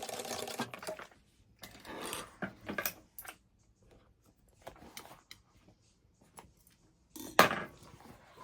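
A sewing machine top stitches along the black part of embroidered bag front panels, coming in several short mechanical runs separated by pauses, close and moderately loud.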